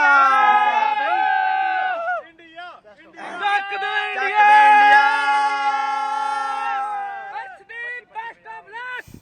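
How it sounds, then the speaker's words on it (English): Indian cricket fans outside Adelaide Oval yelling and cheering together, loud and close, with overlapping shouted voices and a brief lull before the cheering rises again. "give us a quick cheer for the Indian team"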